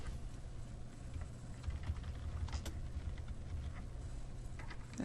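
Someone types text on a computer keyboard, a quiet, close run of irregular key clicks and taps over a faint steady background hum, with no voices.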